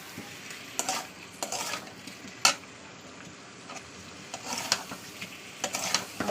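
Frying spice masala in a pan sizzles as a spoon stirs and scrapes, with bright clattering strokes and spitting bursts near and clear, alone without talk.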